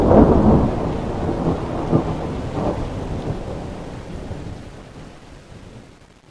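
A thunderstorm with a loud, rolling peal of thunder over steady rain, the rumble swelling near the start and slowly fading away.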